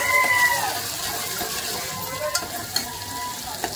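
Onion frying in a pan for mutton vada, a loud continuous sizzle with stirring scrapes and a few sharp utensil clicks near the end, no talking.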